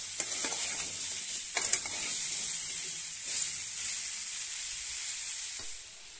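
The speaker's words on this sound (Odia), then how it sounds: "ଛତୁରେ ଲୁଣ ଦେଇକି ବି ହାଇ ଫ୍ଲେମ୍ରେ ଭାଜିବା" Salted mushrooms fry over a high flame, releasing their water in a bright continuous hiss, with a few quick stirring scrapes early on. No one speaks.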